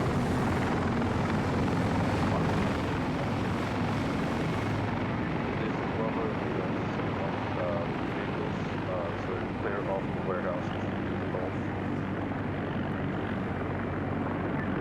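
A helicopter in the Arma 3 video game drones with a dense, steady rotor roar that holds throughout, fairly faint against the mix and thinning slightly toward the end.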